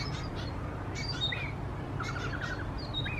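Several short chirping calls of red-billed blue magpies at a distance over a steady low background rumble, some in quick stuttering runs, at Chester Zoo.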